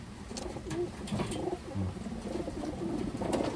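Pigeons coo in soft, low, repeated calls at close range, a few overlapping birds with faint chirps, and no talking over them.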